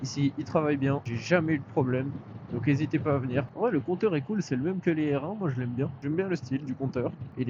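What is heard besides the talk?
No everyday noise stands out behind the speech.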